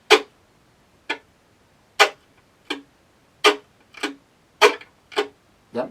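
A violin is played with chop bowing, the string damped by the fingers so it gives no pitch, making about ten dry scratchy percussive strokes that alternate between downbeat and upbeat.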